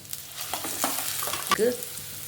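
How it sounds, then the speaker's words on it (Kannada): Capsicum, onion and carrot fry in a pan, a steady sizzle broken by several scraping stirs of a spatula, with a louder clatter and hiss about two-thirds through. "ಅರ್ಧ ಕ್ಯಾಪ್ಸಿಕಮ್ ತೊಂದೆ ಅರ್ಧ ನೀರುಳ್ಳಿ ತೊಂದೆ ಅರ್ಧ ಕ್ಯಾರೆಟ್ ತೊಂದೆ ನೀನು ಫ್ರೈ ಮಲ್ಪುಗ ಪೂರ ಒಟ್ಟು ಫ್ರೈ ಮಲ್ಪುಗ"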